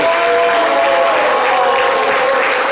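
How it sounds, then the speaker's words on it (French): Audience applauding on a live French-language studio show, a dense, steady wash of clapping that stays loud and even for a few seconds with no break. "applaudissez-le. Bravo."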